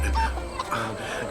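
A chicken clucks briefly, a few short throaty calls close by, with faint background voices.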